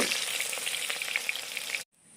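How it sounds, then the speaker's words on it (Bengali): Onion frying in a clay pot gives a dense, steady sizzle with small pops and stirring scrapes, loud and close, then cuts off abruptly near the end. "পেঁয়াজটা পুরো ভাজা হয়ে গেছে"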